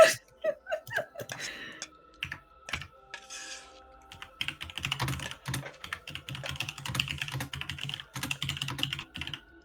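Fast, uneven keyboard typing clicks and taps patter through much of the stretch, mixed with short laughs and a voice during The Hundred Line: Last Defense Academy, moderately close and fairly quiet.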